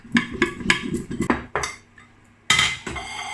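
Dish covered with a plate shaken to coat vegan food in powder, giving rhythmic bursts of rattling, clattering crockery, a short pause, then another loud shake.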